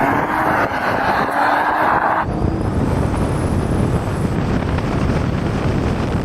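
Drag racing cars roaring off the start line, a loud continuous engine blast that shifts character partway through, with heavy wind buffeting on the microphone and no talking.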